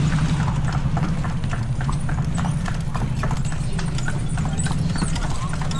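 A horse pulling a kalesa carriage clip-clops with steady, evenly spaced hoofbeats on pavement over a loud rumbling road and traffic background, with people talking faintly.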